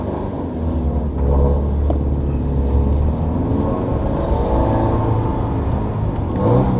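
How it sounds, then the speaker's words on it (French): Toyota GT86 fitted with an HKS supercharger kit and aftermarket exhaust, heard from inside while driving on the street: a steady, loud low engine drone with a rising rev swell in the middle and another push near the end, no talking. "Sounds nice, huh? Is that the exhaust you bought"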